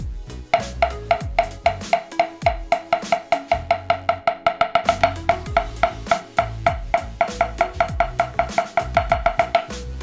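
A marching snare drum plays an exercise of eighth notes, then eighth-note triplets, closing each pass with four sixteenth notes; sharp, evenly spaced hand-alternated strokes, close and loud, with no voices.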